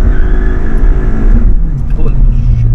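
A Skoda Octavia RS245 running a Revo Stage 2 map launches hard from inside the cabin, with loud engine roar that shifts pitch partway through as it pulls away.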